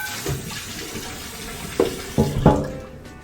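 Hot water runs into a kitchen sink as a steady low wash under the whole stretch, with a few louder splashes and clunks near the end as the flow hits something.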